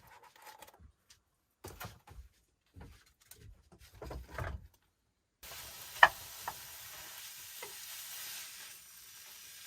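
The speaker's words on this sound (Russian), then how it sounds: "Сейчас ее перевалим в другую тару и начнем жарить фарш и все остальное." A few scattered scrapes and clatters, then a steady, close sizzle of 600 grams of minced meat frying in a pan in a forest log cabin in winter, with an occasional sharp tick.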